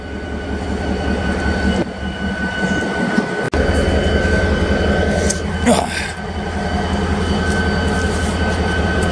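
A Western Pacific railroad locomotive rumbles loudly up close, a steady heavy engine drone with a sharp clank partway through and a brief hiss, continuous throughout with no clear talk.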